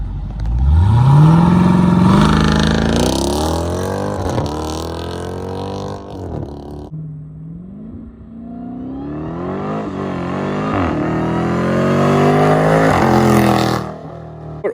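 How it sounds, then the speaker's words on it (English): Jeep Grand Cherokee Trackhawk and SRT quad exhaust pipes, two loud engine revs in turn: the first climbs sharply and holds a high roar, then after a brief lull the second builds slowly to a strong, slightly higher-pitched rev before cutting off. "on the back you're going to see the quad exhaust pipes. Also sounds a little bit different. It's a little bit higher pitched over the SRT."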